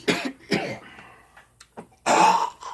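Several harsh coughs from a nearby person, with a pair of bursts at the start, a few smaller throat-clearing coughs in between, and a longer, louder coughing fit near the end.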